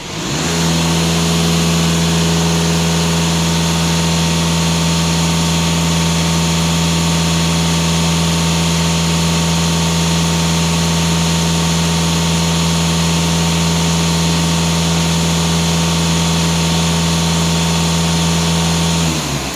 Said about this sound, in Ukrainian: Автомобіль прогрітий. Можна газувати.